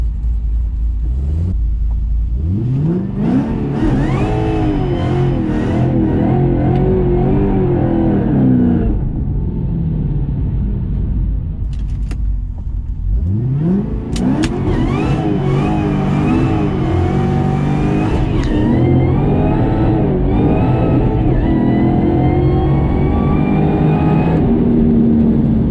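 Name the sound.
Ford Mustang GT500 engine revving to 6500 RPM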